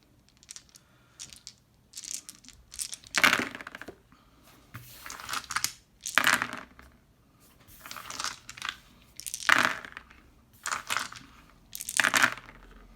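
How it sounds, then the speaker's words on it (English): Blue plastic dice, including a D20, are rolled repeatedly on a hard surface, giving about six separate bursts of clattering and tumbling, each fading out before the next throw, close and clear with no talking. "See how our D20 rolls."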